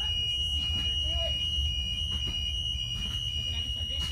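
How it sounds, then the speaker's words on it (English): A school bus rear emergency exit buzzer sounds as a continuous high-pitched electronic tone, heard throughout at moderate level beneath someone talking. "Hear the buzzer in the back."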